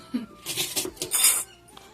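Small bowls being set out one after another for serving chutney, giving a quick run of light clinks and knocks of dishware over about two seconds, close by with no talk.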